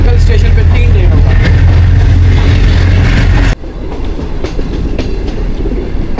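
A passenger train on the Green Line Express between Islamabad and Karachi runs on a loop line, heard from on board as a loud, steady rumble with rhythmic wheel clatter that drops abruptly in level midway.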